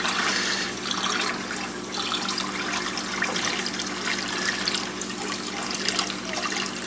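An open-ended siphon drawing water from a 40-gallon breeder aquarium, a continuous close gurgling rush of water with slight surges and no voices.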